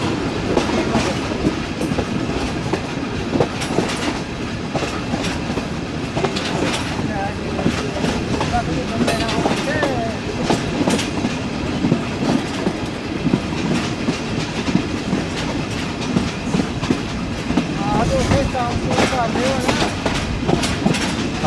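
The Rehman Baba Express, a Pakistani passenger train, rumbles steadily along the railway track with a continuous clickety-clack of wheels over rail joints, loud and close throughout.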